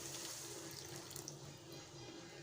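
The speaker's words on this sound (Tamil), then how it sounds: "அந்த புளி தண்ணியை சேர்க்கலாம்." A steady, soft stream of tamarind water pouring into a pan, continuous and close, with no talk.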